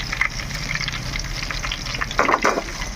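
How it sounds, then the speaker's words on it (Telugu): Onions sizzle and fry steadily in hot oil with mustard seeds, cumin, curry leaves and green chillies in a pan for dry prawn gongura curry, with a louder burst of crackling near the end. "ఆయిల్ హీట్ అయిన తర్వాత ఆవాలు, జీలకర్ర, కరివేపాకు, పచ్చిమిర్చి వేయించుకొని ఉల్లిపాయ ముక్కలు వేసుకోవాలి"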